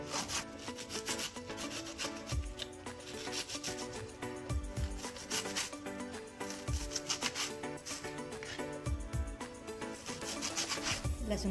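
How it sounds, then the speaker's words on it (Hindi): Onion being finely chopped with a knife for aloo-methi paratha, a busy run of rapid rubbing, scraping knife strokes on a wooden board with occasional heavier thuds, steady and close with no talking. "प्याज को भी बारीक बारीक काट लेंगे इस तरह से।"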